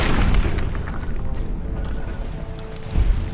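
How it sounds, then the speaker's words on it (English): Frag mines going off in the video game Fallout: a loud, booming blast with a rumbling low tail, then a second heavy thud near the end, without speech. "That's why we got frag mines."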